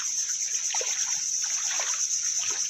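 Continuous river water trickling and burbling close by, a steady bright wash with small splashy gurgles, no talking.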